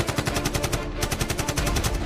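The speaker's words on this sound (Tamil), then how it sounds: "அந்த வாகனம் மீது சரமரியாக குண்டுமழை பொழிகிறது ஒரு கும்பல்." Rapid automatic gunfire in a sustained burst of evenly spaced, loud shots, heard alone with no talk, in the ambush of a vehicle by an armed group.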